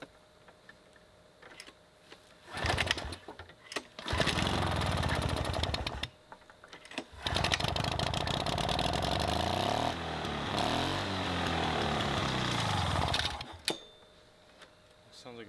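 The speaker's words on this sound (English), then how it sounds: "Sounds like a two-stroke." A Toro GTS push mower with a two-stroke engine turns over in short cranking bursts, then catches and runs as a loud, buzzing, uneven roar that surges and fades before cutting out.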